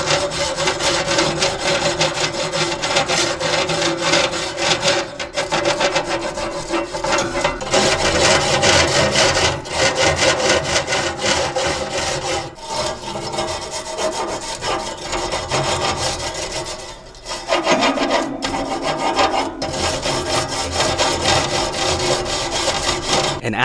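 A nylon cold-cleaning brush scrubs a cooled steak grill grate with loud, rough back-and-forth strokes in a steady rhythm, close up, with brief pauses between bursts and no talking.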